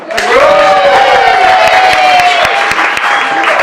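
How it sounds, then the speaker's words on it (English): Wedding guests break into loud applause with cheering and whoops, a close, full burst of clapping and shouting from the crowd. "So, round of applause for Lisa Doug."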